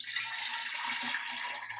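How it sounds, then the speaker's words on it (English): Salt water pours steadily into a large jar in a biology lab, a continuous close splashing gurgle with no talking. "I think I'm just going to pour it into a large jar I happen to have around."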